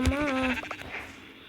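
A Minecraft sheep bleats with a single wavering, nasal call in the first half second, fading into a quiet game background with faint sounds afterward.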